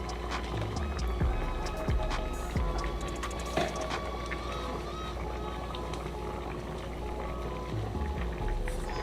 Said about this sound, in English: I'm gonna add some water to this plate to get a little of the seasoning